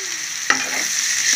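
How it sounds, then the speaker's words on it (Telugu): Onions and green chillies frying in a pan for chicken curry, a loud close sizzle with a sharp stirring scrape midway, continuous crackle and hiss with no talk. "కొంచెం ఉల్లిపాయలు బాగా వేగనివ్వాలి. ఇందులో పచ్చిమిరపకాయలు వేసుకున్నామండి."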